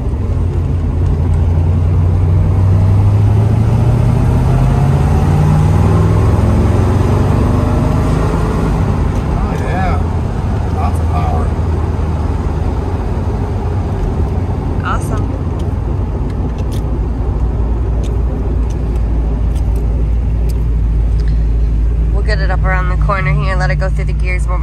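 A 1970 Chevrolet Corvette with a 350 small-block V8 rated at 350 horsepower drives along, its low engine drone and rising gear pulls steady throughout, with road and traffic noise and people talking inside the car.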